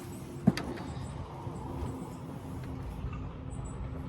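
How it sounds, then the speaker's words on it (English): Quiet outdoor ambience from a street corner: a low, continuous traffic rumble with a soft thump near the start and scattered faint clicks and distant vehicle sounds. "pardon street noise, I am outside and I live on a street corner"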